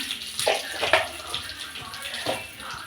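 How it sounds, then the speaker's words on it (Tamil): Vadagam frying in hot refined oil, a close, continuous sizzling hiss with a few louder crackling bursts. "வடகம் பார்த்திங்கன்னா நல்லா பொரியிற சவுண்ட் கேட்கும்."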